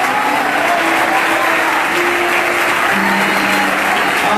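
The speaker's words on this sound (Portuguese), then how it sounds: "E eu quero ouvir palmas misturado com glória a Deus" A church congregation at a Pentecostal conference in Paraíba claps hands together in loud, sustained, dense applause with no pauses, filling the room evenly throughout.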